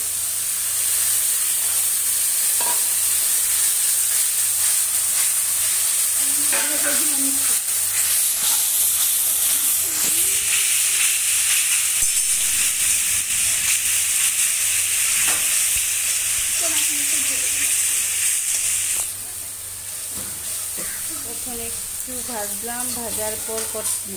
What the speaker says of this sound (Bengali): এখন এগুলিকে নাড়াচাড়া করছি